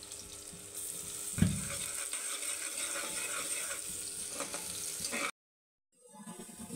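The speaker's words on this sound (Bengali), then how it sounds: "তেলটা গরম হয়ে গিয়েছে, এখন আমি পেঁয়াজ কুচি দিয়ে দেব।" Chopped onions fry in hot mustard oil with a soft, steady sizzle. A brief clatter comes early on, and the sound cuts to silence near the end before faintly resuming.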